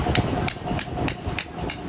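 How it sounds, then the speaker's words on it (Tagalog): A hammer taps a replacement oil seal into a motorcycle front shock, sharp metallic knocks repeating about every third of a second, close and loud with no talk. "Pukpok. Pukpok."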